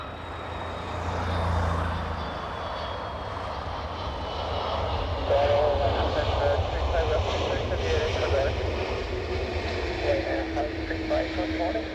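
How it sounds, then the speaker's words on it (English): Airbus A330 arriving from Orlando at Dublin Airport, its jet engines a broad, steady rumble that swells and holds as it passes at a distance, with people talking over it. "A330 from Orlando."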